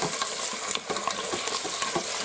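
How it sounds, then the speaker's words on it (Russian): Meat sizzling and crackling in a hot multicooker pot, with brief scraping stirs breaking through the steady fry. "Все, пускай жарится."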